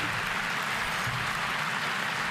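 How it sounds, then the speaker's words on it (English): Dense, steady clapping fills the short stretch at a moderate level, with no talk over it. "I'm clapping IRL."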